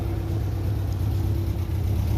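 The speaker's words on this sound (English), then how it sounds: "Hear that fan just a roaring." A steady loud whirring roar from the electric radiator cooling fan of a 1978 MGB, close and continuous, with a low mechanical hum beneath.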